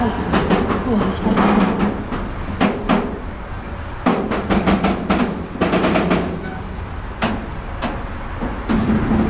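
A regional express train pulls into a platform at Magdeburg station, with repeated rhythmic wheel clatter over rail joints and a sustained rumble, close and loud.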